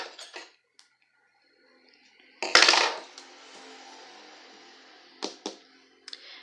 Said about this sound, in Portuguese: agora eu vou cortar aqui o fio.